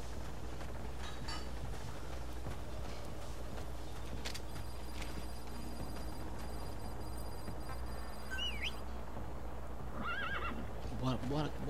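In Metal Gear Solid V: The Phantom Pain on Xbox 360, a horse whinnies with rising, wavering neighs toward the end while hooves clip-clop steadily underneath, over a constant game backdrop; someone speaks at times.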